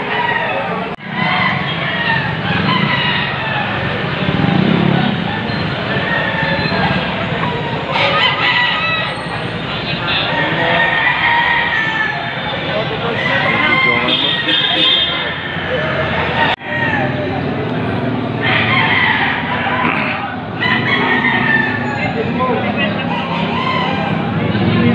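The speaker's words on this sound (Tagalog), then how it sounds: "Marami pa manok na pagpipilihan dito." Chickens and roosters at a poultry market in Padre Garcia, Batangas cluck and crow repeatedly, loud and close, with a busy crowd of voices throughout.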